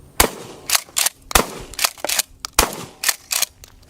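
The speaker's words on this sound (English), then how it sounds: "this one here specifically is a Remington 870 Marine Magnum" A Remington 870 Marine Magnum pump shotgun with an 18-inch barrel fires in PUBG Mobile, a string of about seven sharp, loud blasts at uneven intervals, each with a short tail and nothing else around them.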